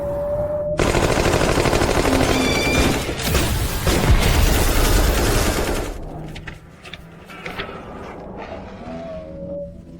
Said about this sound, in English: For the glory of the Zhao family, open fire.